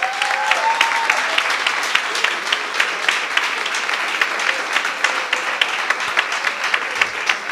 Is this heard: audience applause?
yes